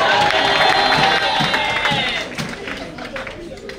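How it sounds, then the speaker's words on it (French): A church congregation at a worship workshop claps and cheers loudly, with voices and whoops mixed in over the applause, which gradually fades toward the end. "On peut les applaudir puissamment, frères et sœurs."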